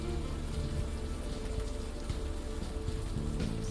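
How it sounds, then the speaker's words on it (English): Steady pouring rain in the video game Unavowed, a dense, even hiss of heavy downpour on surfaces with a low rumbling undertone, constant throughout with no talking. "In fact, we're standing in pouring rain."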